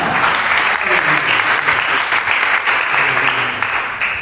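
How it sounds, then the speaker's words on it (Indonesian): A church congregation applauds during an Easter service, loud sustained clapping from many hands filling the room evenly, continuous throughout with slight fluctuations, without a voice rising above it. "bolehkah kita berikan tepuk tangan dulu bagi Tuhan?"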